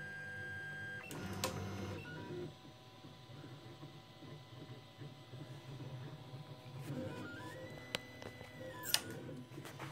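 A 3D printer prints steadily at low volume, with a mechanical buzz, whirring stepper motors and occasional rising and falling whines as the print head moves.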